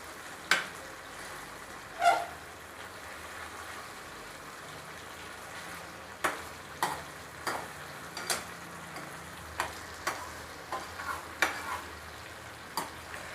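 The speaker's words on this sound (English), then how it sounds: "she's mixing it well" Chicken curry is stirred and mixed in a pan under a soft continuous sizzle, with sharp spoon scrapes and taps scattered irregularly throughout, close and fairly quiet.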